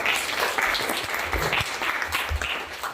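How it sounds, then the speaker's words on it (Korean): Audience applause opening a Busan citizens' forum on the political rights and free expression of public servants and teachers: continuous, dense clapping from a seated crowd indoors, close and even, with occasional low thumps beneath. "여러분들의 힘찬 박수로 시작하도록 하겠습니다."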